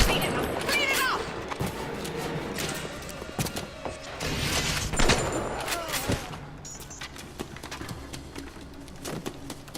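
Loud gunfire from a shotgun in Bioshock played in VR. Several sharp, close blasts stand out over a busy, layered game soundscape, with voices speaking over the action.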